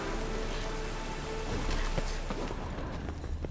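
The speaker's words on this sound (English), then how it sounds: "Must be mad running around in this rain." Steady rain pours down in The Witcher III: Wild Hunt, a dense hiss of drops with scattered splashes and patters that continues without a break.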